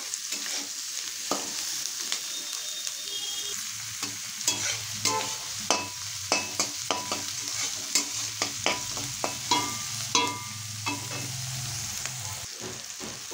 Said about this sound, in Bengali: এবার এর মধ্যে আমি দিয়ে দিচ্ছি টমেটো কুচি আর দিয়ে দিচ্ছি ক্যাপসিকাম কুচি। দিয়ে আবারও 1 থেকে 2 মিনিট মতো এভাবে একটু ভেজে নেব।